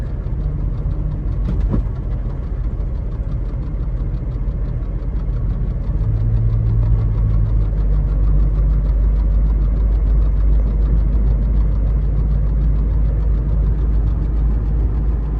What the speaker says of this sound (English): there felt a little bit of a slip there as it jumped into third gear.